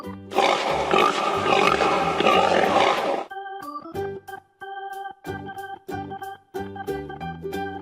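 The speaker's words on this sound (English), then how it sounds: "Pig." A pig's rough, dense grunting and squealing from a children's animal-learning game, loud and continuous for about three seconds, then giving way to a light, bouncy backing tune.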